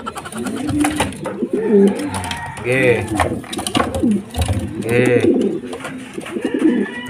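Racing pigeons, including a male, coo in soft repeated throaty bursts close by while someone talks over them during race preparation.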